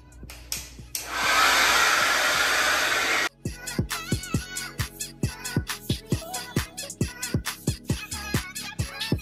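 A handheld hair dryer roars steadily for about two seconds while blow-drying curly clip-in hair extensions, then cuts off, followed by a rapid series of short rhythmic taps or clicks.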